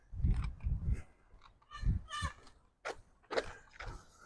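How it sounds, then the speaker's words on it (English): A bicycle horn outdoors around a park lake gives a few short, honking, goose-like blasts in uneven bursts, fairly close and clear against quiet surroundings. "That's not a goose. That's a bicycle."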